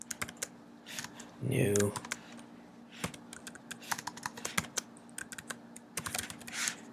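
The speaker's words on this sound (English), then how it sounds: "I just start typing." Rapid clicks of a computer keyboard while code is typed, scattered clatter of keys running throughout, with someone talking over the keystrokes for a moment.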